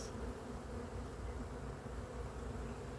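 Honeybees buzz at a backyard hive, a dense, continuous, even drone of many wings heard close up, with no voices.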